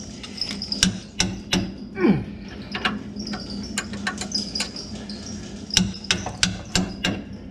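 Sharp metallic hammer blows strike a punch against a steel skid plate on a 2019 Chevrolet Colorado ZR2 Bison, about a dozen close, loud taps in irregular bursts over a low garage hum.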